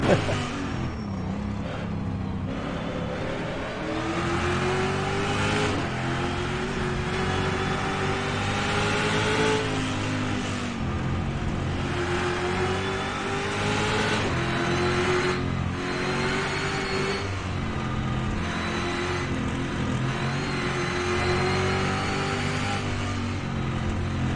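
A Camaro racing around Mount Panorama in the video game rFactor2, its engine revving up and down through repeated gear changes in a continuous, moderately loud whine and growl.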